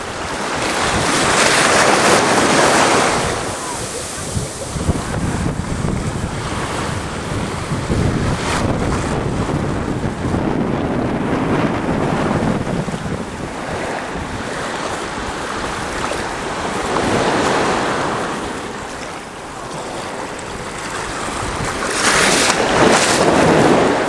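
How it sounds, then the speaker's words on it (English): Medium-sized ocean waves break and wash in repeated surges at Lanikai Beach, a loud, broad roar rising and fading with each set, mixed with gusty wind rumble. "the waves are fairly strong, but they're not that strong, they're just medium-sized waves"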